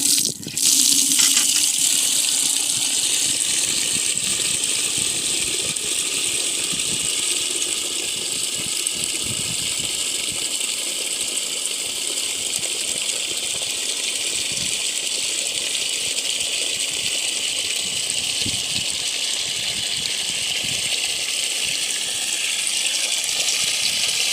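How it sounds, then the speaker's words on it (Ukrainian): Tap water gushes steadily into a container as 10 litres are filled, a constant close rushing splash that runs unbroken from start to finish with no talk. "набираємо спочатку 10 літрів води."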